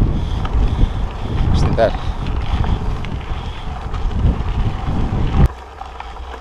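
Strong wind buffets the microphone during a bike climb up Serra da Estrela in Portugal. The roar is loud and gusty, with a brief spoken comment, then cuts sharply to a quieter background near the end.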